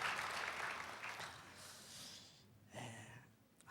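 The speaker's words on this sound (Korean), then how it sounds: "이 귀한 은혜를 주시는 우리 하나님께 영광의 박수를 올려드리겠습니다." A church congregation claps together in a dense, fairly loud wash of applause that thins toward the middle, then rises again in a short burst before fading.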